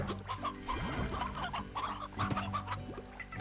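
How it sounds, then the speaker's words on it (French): Chickens clucking in the video game Slime Rancher: a busy flock of fowl gives overlapping clucks and squawks close by, layered over a steady hum of in-game background sound. "chez moi, il y a des milliards de poules derrière."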